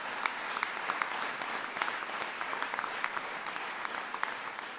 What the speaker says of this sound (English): sure you can clap for that